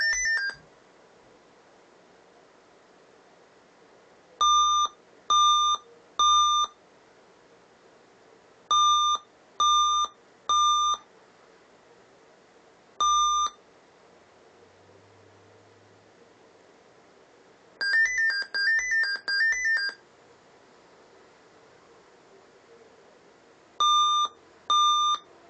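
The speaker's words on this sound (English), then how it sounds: "It was like a little Dell jingle, and then I guess three beeps" Short electronic beeps from a Dell XPS M1730 laptop failing to boot sound in repeated groups of three, pausing between sets, with one faster burst of several beeps in the middle; clear and close.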